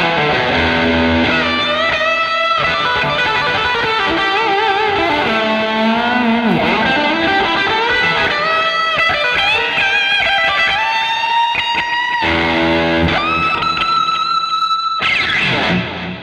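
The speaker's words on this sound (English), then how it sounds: "Bit of reverb, bit of reflecting pool." Electric guitar through a Fender Reflecting Pool delay and reverb pedal on its hall setting with digital delay: sustained chords and ringing notes bloom into long, washy echoes that keep going steadily, then drop away near the end.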